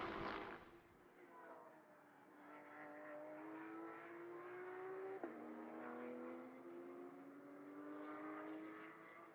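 GT endurance race cars at Mugello, a high engine note rising in pitch as a car accelerates down the straight, fairly distant, a brief shift in tone midway, with faint commentary underneath.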